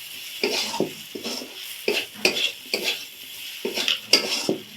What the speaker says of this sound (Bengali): সমস্ত মশলা দিয়ে কষিয়ে পুরোপুরি রান্নাটাই আমার রেডি হয়ে গেছে